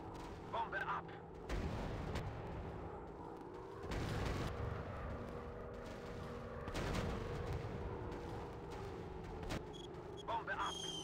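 Bombs dropped from a warplane explode in a WW2 combat flight game: several heavy, booming blasts at irregular intervals over a constant engine drone, with faint game voices.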